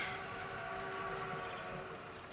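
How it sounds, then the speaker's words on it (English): A train rumbles steadily at a distance, a continuous low, muffled roar that stays even and faint throughout. "It's my train."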